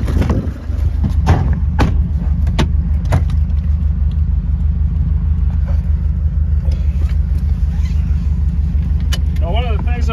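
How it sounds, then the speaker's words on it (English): A 2012 Subaru Impreza on a test drive, its engine and road noise a steady low rumble from inside the cabin, with faint clicks and small bumps over the drive and no talking. "Let's take you guys on a short test drive, show you how the vehicle drives."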